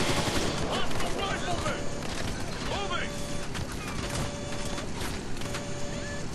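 Rapid bursts of gunfire from the video game Ghost Recon: Future Soldier crackle over a busy bed of in-game effects and ambience.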